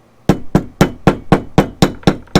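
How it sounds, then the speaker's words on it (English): A wooden mallet taps a copper rivet set into leather, nine sharp, evenly spaced knocks in steady rhythm, close and loud with nothing else heard. "we'll tap it slightly, small taps, always using a mallet"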